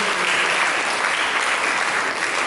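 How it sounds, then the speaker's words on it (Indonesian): A church congregation applauds for Jesus during an Indonesian sermon, a dense, steady roar of many hands clapping at once, loud and close, with no voices rising above it. "Mari kita berikan tepuk tangan bagi Yesus."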